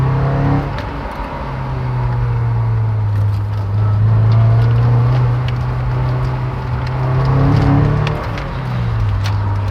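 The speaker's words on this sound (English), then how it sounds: "we'll try to take this corner with a bit of speed" A Toyota MR2 on D2 Racing Street Spec coilovers corners at speed, its engine note rising and falling in a sustained close drone that holds for several seconds, with no talking.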